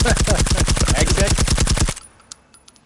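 Rapid automatic gunfire from the video game Firewall Zero Hour: a loud, steady burst of about two dozen close shots in under two seconds, then it cuts off, leaving faint clicks and distant pops.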